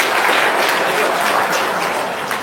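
Audience applause at a gathering with a presenter, dense and steady clapping filling the whole stretch, close and fairly loud, fading slightly toward the end.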